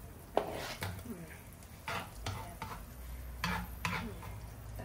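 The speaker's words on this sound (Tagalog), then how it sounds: "Tapos lagay na natin yung garlic." Garlic being sautéed in a pan for ginataang shrimp with spinach, with ginger added too: a soft sizzle runs beneath repeated stirring and scraping of a utensil against the pan, plus a few clinks, close by and fairly quiet.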